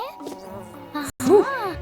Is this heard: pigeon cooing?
no